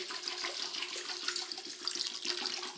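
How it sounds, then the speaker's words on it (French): Water pours steadily over white beans in a cooking pot, a continuous splashing rush with bubbly gurgles, close and fairly even throughout. "On les recouvre d'eau."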